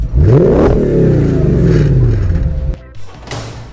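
A 4.2 V8 car engine with removed catalytic converters revs hard close by, a loud rising roar that falls away over a couple of seconds, then cuts off, followed by a brief smaller blip.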